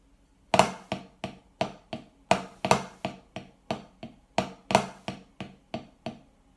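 A drummer plays a paradiddle-diddle rudiment with an added flam, about sixteen crisp, close strokes falling in a steady repeating pattern, with a few louder accented hits standing out from the rest.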